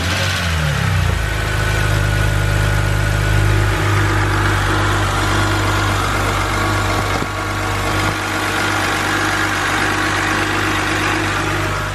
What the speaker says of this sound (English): All we need to do now is fire up the engine and just make sure we have no leaks.